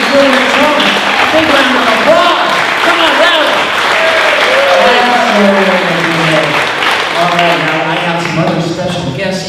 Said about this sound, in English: Let's give Ken Ferguson New Beginning Children's Homes a big round of applause